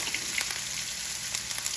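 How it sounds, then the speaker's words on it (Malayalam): Chopped onion fries in oil in a pan, giving a soft, even hiss of sizzling up close for a brief moment. "ഒരു പാനിൽ കുറച്ച് എണ്ണ ഒഴിച്ച് ഉള്ളി ചെറുതായിട്ട് അരിഞ്ഞത്"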